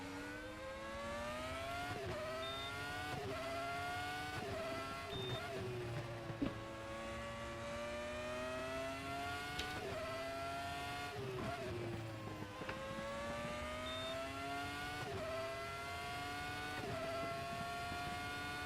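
Formula RaceRoom X-17 open-wheel race car lapping Monza in a racing video game, a steady high engine whine that rises through the gears and drops sharply on downshifts, continuous and close throughout.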